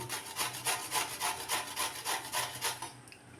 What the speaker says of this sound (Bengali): এখন আমি পেঁপেটাকে গ্রেট করে নেব এই গ্রেটার দিয়ে